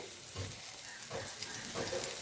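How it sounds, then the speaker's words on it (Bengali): Eggplant pieces frying in hot oil give a soft, quiet sizzle, broken by a few faint clinks and shuffles as pieces go into the pan. "তেলটা বেশ গরম হয়ে যাবে, এইবারে একে একে সমস্ত এই যে বেগুনগুলোকে দিয়ে দেবে"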